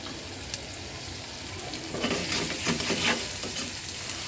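Dried fish with plenty of onion and garlic cooking on a very low gas flame, a soft steady sizzle with a brief burst of stirring scrapes partway through, no voices.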